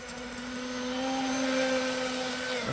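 A 4092 electric motor drives an RC boat propeller, spinning up into a smooth, steady high-pitched whine that swells slightly and holds, close and alone.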